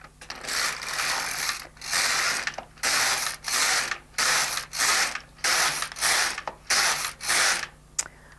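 The carriage of an LK150 knitting machine runs back and forth across the needles with a steady rhythm. About ten bursts of mechanical ratcheting clatter follow one another, close and loud, with no voices.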